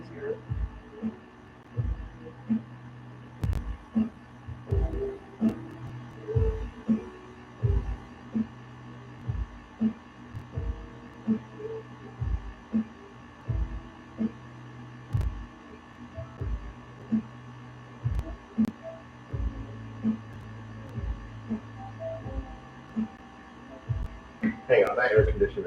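Air conditioner humming indoors, a steady low drone with a pulsing rhythmic throb running throughout, interrupted by brief clicks and small thumps.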